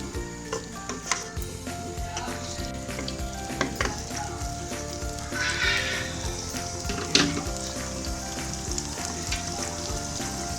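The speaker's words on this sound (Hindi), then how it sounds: "अब फिर हाई कर देती हूँ। अब दही को मैंने 2-3 मिनट के लिए पकाना है।" Yogurt sizzling over high heat in a chicken karahi, a steady loud frying hiss with occasional stirring scrapes and clinks, no voices.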